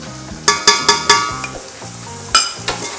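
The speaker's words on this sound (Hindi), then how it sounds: "अच्छी तरह चम्मच चलाऊंगी" A spoon stirs ginger garlic paste and crushed green chilies frying in a pan, with a steady sizzle punctuated by several sharp metallic scrapes and clinks of the spoon against the pan.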